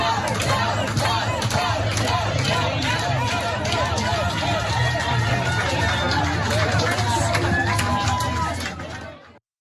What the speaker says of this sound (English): the crowd gathering outside began beating against the building's windows and yelling